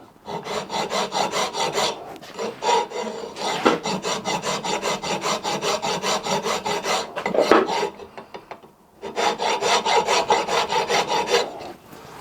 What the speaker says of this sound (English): The file's touching basically the whole